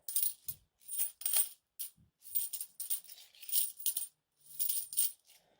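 Small clad metal coins clink and jingle together in repeated short bursts with brief pauses between them, bright and close.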